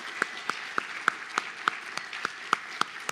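An audience at a veterans tribute program applauds professors and students, a fairly faint, even wash of clapping with one sharper nearby clap repeating at a steady beat, about three per second.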